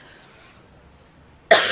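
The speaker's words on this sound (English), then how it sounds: "I actually had to do a couple of takes in between the coughing fits." After a quiet pause, a single sharp cough bursts out close to the microphone near the end.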